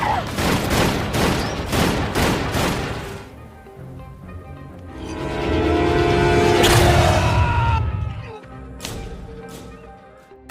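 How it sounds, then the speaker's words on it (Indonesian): A rapid burst of sharp pistol gunshots in a film opens the clip, followed by a rumbling crash and scattered impacts, loud and close like a movie action scene. "Cliff tiba-tiba muncul dari bawah jurang lalu menembak pistol tanpa arah."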